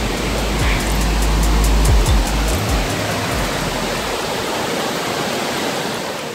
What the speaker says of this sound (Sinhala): පහළ දිය ඇල්ල තමයි මේ බොම්බුරු ඇල්ලේ දෙවන කොටස